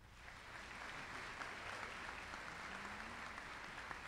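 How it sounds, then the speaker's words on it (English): A graduation audience at Apex High School's 2018 ceremony applauds its distinguished guests, a steady, even wash of many hands clapping from a sizeable crowd that holds level for several seconds. "Please give our distinguished guests a round of applause."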